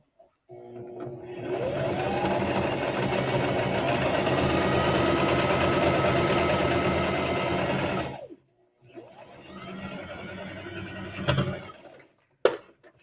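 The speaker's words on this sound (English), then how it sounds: "Do a couple stitches and then back stitch" Sewing machine stitching quilt half-square triangles together: a close, steady motor whir runs for several seconds, cuts off, then a shorter burst of stitching starts again before a sharp click at the end.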